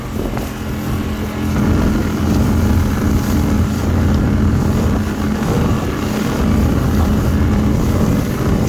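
A loud, steady engine drone with a constant hum, a small outboard motor running at full revs on an inflatable boat, mixed with wind rush.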